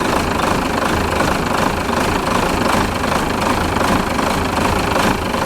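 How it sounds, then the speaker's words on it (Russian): Renault Major tractor fitted with a Midri 420 engine running, a loud close diesel clatter with steady knocking rhythm and vibration throughout, no talk over it. "Работает, видите, да, это двигатель не маковский, а Midri 420"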